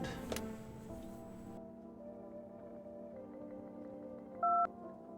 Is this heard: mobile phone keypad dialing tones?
yes